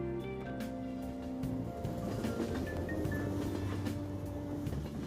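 A train pulls into a station in the game Persona 5 Royal, a steady low rumble with sustained tonal hums and faint squeals, fairly even in level throughout with no one talking.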